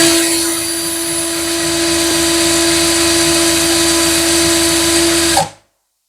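A Beckum EB2 12V cordless drill spinning freely at speed 2, a loud, steady motor whine with a constant pitched hum that cuts off sharply just before the end.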